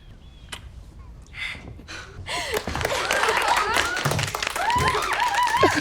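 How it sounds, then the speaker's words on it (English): Scattered clapping from a small group of people in Anne with an E, starting with a few sparse claps and building into steady applause, mixed with murmuring voices. "They're clapping."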